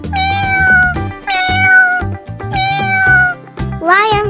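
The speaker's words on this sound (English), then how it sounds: "Three cats. Meow, meow, meow," Three cartoon cats meow in a loud, close sequence, each a drawn-out tonal call with short gaps between them and a higher squeaky meow at the end.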